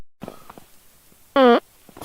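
A short, loud, tonal fart with a buzzy quality breaks into quiet room noise, preceded by faint bumps and rustling.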